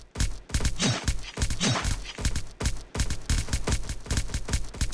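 Rapid bursts of gunfire from AI robots wielding shotguns and M16s in a Roblox video game, loud dense volleys with brief gaps, continuous across the stretch with no talking.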